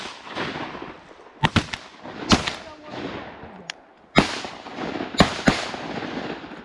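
Shotguns fire at ducks during a six-man hunt on a tiny pond, a run of sharp nearby blasts in quick clusters, some overlapping, with hunters talking and shouting between them.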